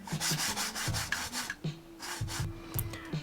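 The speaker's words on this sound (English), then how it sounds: "the middle of the mouse is actually making contact with the hard surface, and it makes that huge scratching noise" Rough scratchy scraping as the middle of a Razer Deathadder Elite or Zowie FK2 gaming mouse drags across a hard surface, in repeated short back-and-forth strokes, close and fairly loud.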